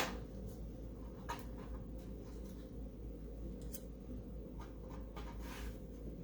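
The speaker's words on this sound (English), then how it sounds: "it won't take long to cut out a couple stars" Scissors snip out paper stars for Christmas cards in short, faint, irregular cuts over a steady low background hum, close by with no talk.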